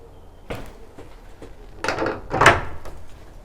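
An old door of a Norman village church is pushed open, giving a couple of close creaks and a heavy wooden knock and rattle as it swings, with no talking.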